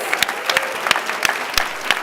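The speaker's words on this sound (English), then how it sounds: "Give yourselves a round of applause." Audience applause at a live conference session of the 2019 National Adaptation Forum: a steady stretch of clapping with distinct individual claps at moderate level, no speech over it.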